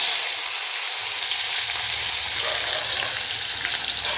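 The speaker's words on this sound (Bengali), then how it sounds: "এবার টমেটোটা ভালো করে ভেজে কষিয়ে নিয়ে টমেটোটা গলে যাবে" Tomatoes sizzle steadily in spiced oil in a pan, cooking down for a potato curry; a loud, continuous, close frying hiss with no talk.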